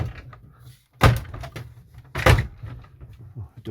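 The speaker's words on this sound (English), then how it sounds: "the door won't shut." Two sharp thuds about a second apart, a Ford Econoline E350 Coachmen motorhome door pushed against its frame and bouncing back without shutting, with faint rustling between.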